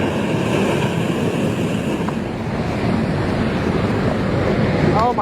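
Huge ocean waves break at Mavericks off the California coast, producing a dense, unbroken roar with heavy wind buffeting on the microphone, loud and close throughout.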